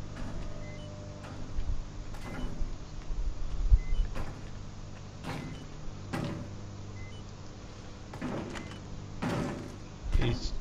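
In the video game Outlast: Whistleblower, dull thuds of a head banging against a door repeat irregularly at moderate distance over a droning ambient background.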